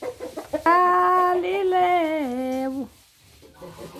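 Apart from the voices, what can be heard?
rooster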